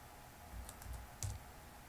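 Computer keyboard keys tapped while entering a Linux command, a few quick, soft clicks close to the microphone over a faint hiss, with no voice.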